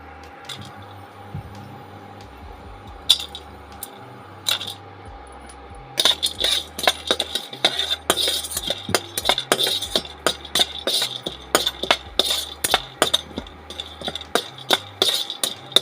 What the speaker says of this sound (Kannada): 1 ಟೇಬಲ್ ಸ್ಪೂನು ಅರಿಶಿಣ ಕೊಂಬು ಹಾಕ್ತಾಯಿದ್ದೀನಿ, ಅದನ್ನು ಹುರ್ಕೋಬೇಕು.